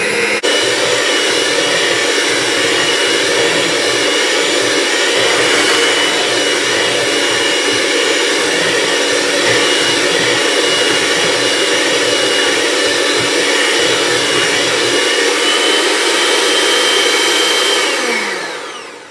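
An electric mixer whirs steadily through rhubarb custard cake batter, a loud, close, continuous motor drone lasting nearly twenty seconds before winding down at the end.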